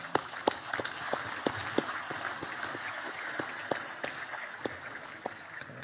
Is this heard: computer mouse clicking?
no